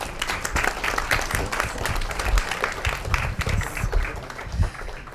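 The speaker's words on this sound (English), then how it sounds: "Let's give them one more round of applause." Conference audience at a climate event applauding the speakers, loud close clapping with sharp individual claps and some crowd movement, sustained throughout.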